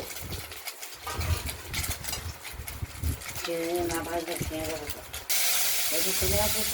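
Small fish sizzle in mustard oil in a wok, a steady frying hiss that runs throughout, with voices speaking over it.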